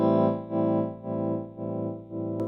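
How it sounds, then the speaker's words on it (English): Clean electric guitar chord through a clean amplifier with an Electro Harmonix Wiggler pedal set to a slow, subtle tremolo, volume swelling and dipping in a steady pulse about every half second, played alone. "I've set up the wiggler for kind of a slow, subtle tremolo."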